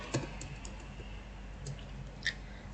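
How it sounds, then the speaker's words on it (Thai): Soft keystrokes on a computer keyboard while entering a formula in Excel: a few sparse, light clicks and taps spread out, quiet and close, with a slightly sharper click near the end. "แล้วก็พิมพ์คำว่าปานกลางค่ะ"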